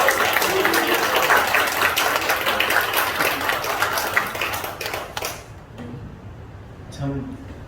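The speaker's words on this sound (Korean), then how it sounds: "우리 먼저 한번 하나님 앞에 감사의 박수 한번 올려드릴까요?" A Korean church congregation gives applause at a first service in a new sanctuary. A dense, loud roar of clapping lasts about five seconds, then fades into a quiet room where a voice begins speaking.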